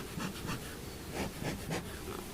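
Honey bees buzz around an opened hive during a pre-harvest inspection, with a soft, wavering hum that swells and fades in irregular pulses near the listener.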